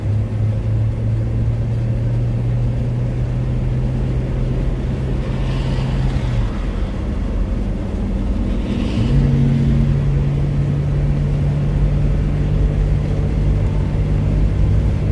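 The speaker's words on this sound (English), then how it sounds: "having a 4-cylinder is nice. And it does go up over the mountains nice." A 4-cylinder car engine drones steadily from inside the cabin while driving up over mountains on the highway, a constant low rumble with road noise and a slight shift in engine pitch partway through.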